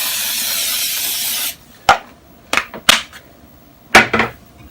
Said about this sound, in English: I'm going to spray it with baking spray.